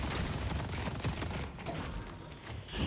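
Turrets firing in the video game Deadlock, a dense, continuous fusillade of rapid shots that stays loud throughout with no pauses.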